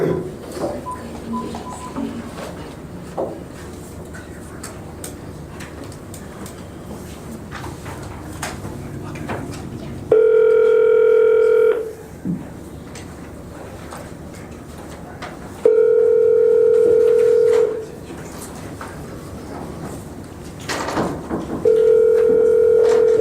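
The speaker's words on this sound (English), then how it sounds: "Okay, let me give him a call." Telephone dial tone sounding in three steady bursts while placing a call to an attorney during a West Palm Beach court motion calendar, loud and clear between stretches of quieter background room noise.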